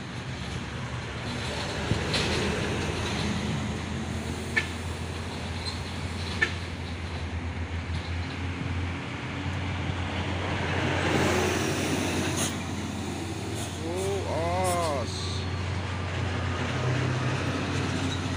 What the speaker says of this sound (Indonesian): Ada truk trailer ini ya.